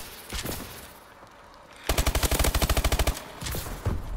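An SMG in Call of Duty: Advanced Warfare fires a sharp, evenly spaced burst of about a dozen rapid shots, close and loud, framed by a few scattered single shots before and after.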